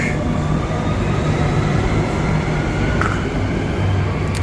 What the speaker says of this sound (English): So this is the Midland train due in 3 minutes.